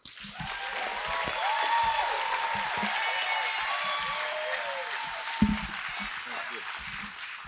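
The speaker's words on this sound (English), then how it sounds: "can we please have a round of applause for our next speaker" Audience applause at a political evening event for Arizona Legislative District 28, welcoming a U.S. Senate candidate to the stage; steady broadband clapping with crowd noise and some voices mixed in, holding fairly even across the stretch.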